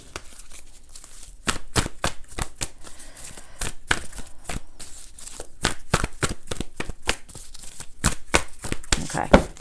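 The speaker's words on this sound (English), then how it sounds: "I'm just going to do a couple more shuffles." A deck of cards is shuffled over and over, with crisp riffling snaps and rapid flutters repeating close up and steadily throughout.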